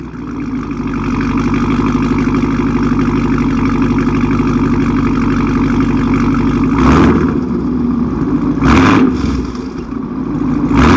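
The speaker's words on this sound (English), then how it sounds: "I'm going to get to this video and do the exhaust clip." A 2017 Camaro ZL1 or 2018 widebody Hellcat engine idles with a deep, steady rumble through its exhaust, then revs sharply two or three times in quick bursts before settling back to idle.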